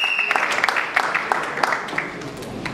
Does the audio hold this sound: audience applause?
yes